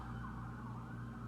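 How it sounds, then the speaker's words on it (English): Emergency vehicle sirens sounding outside, a steady wailing tone heard faintly from a distance over a low constant hum, with no talking. "I feel like I'm getting people's attention with the sirens out here"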